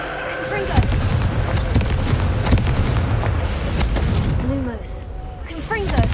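Repeated Confringo fire spells exploding in the Hogwarts Legacy video game, dense booming bursts over a loud continuous game soundscape, with a player's voice speaking over it.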